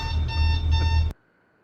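Ringing of an alarm clock playing back from a video, a loud steady electronic ring with bright harmonic tones lasting about a second before cutting off abruptly into near silence.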